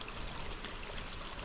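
A garden pond fountain flows steadily in autumn, a faint, continuous trickling and splashing of water with no voices.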